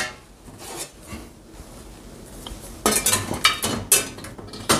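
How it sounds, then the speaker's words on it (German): Stainless steel parts from a 3-in-1 camping grill are set into a dishwasher, with scattered light clinks at first, then a burst of sharper, louder metallic clatters and knocks close by. "können wir einfach beigehen und sämtliche Teile in den Geschirrspüler stellen"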